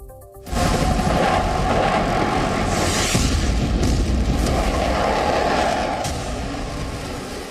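A loud explosion from an Indian Army demonstration bursts suddenly, then a heavy rumbling roar lingers for several seconds before slowly fading.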